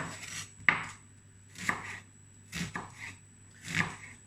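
A knife chops an onion on a cutting board in a home kitchen, four distinct crisp thuds spaced about a second apart, close and clear with no talk over them.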